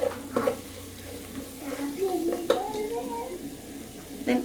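Masala fries are stirred in a pan after paprika goes in, with a soft sizzle and intermittent scraping, clinking strokes over a quiet background.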